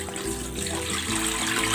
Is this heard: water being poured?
yes